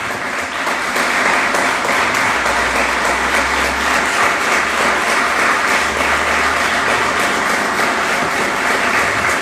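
A church congregation claps loudly and steadily at a Portuguese-language worship service, a dense, sustained wash of applause that fills the room with little or no talk.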